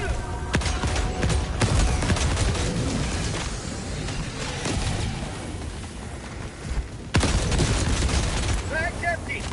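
Bursts of shotgun and weapon fire in the Helldivers 2 shooter game, sharp booming shots at irregular intervals over a dense backdrop of battle noise, with voices speaking at times.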